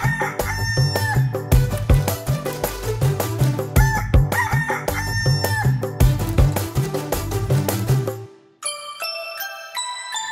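Cartoon rooster crowing inside a Marathi children's animated song, blended with a steady drum beat and bright melody before the backing drops to a lighter tinkling tune near the end.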